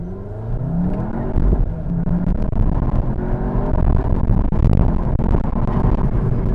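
A 2023 Cupra León turbo hatchback accelerates hard, its engine droning loud and close with rising pitch sweeps as it pulls through the gears, with no talking.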